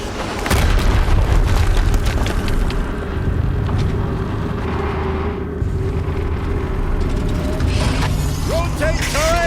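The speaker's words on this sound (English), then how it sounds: "Another explosion." Loud, continuous explosion rumble from the Horizon Zero Dawn video game, a heavy low boom that swells and holds for several seconds, overlaid with mechanical crackle and debris, with a voice briefly speaking near the end.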